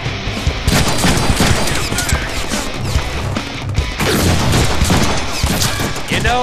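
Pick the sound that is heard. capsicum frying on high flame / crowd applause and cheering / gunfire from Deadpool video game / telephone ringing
gunfire from Deadpool video game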